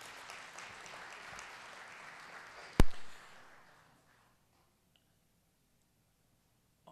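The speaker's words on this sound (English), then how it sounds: "So please join me in also a round of applause for Faith" An audience at a memorial event for a former Hartford mayor claps in a soft, continuous patter for nearly three seconds, broken by a sharp click before fading to silence.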